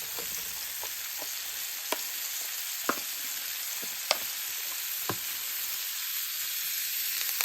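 Four garlic cloves sizzle in a hot pan with a ribeye steak and butter, a constant loud frying hiss broken by scattered pops and spatters, no voices.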